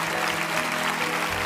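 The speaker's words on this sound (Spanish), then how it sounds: "Un aplauso fuerte a todo este equipo también." Congregation applause filling a Lakewood church service, a steady dense wash of clapping that runs evenly through the short stretch without pause.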